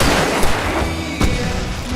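Flashbang blasts in the horror action game Alan Wake, two sharp bangs about a second apart standing out over a dense, noisy game soundscape.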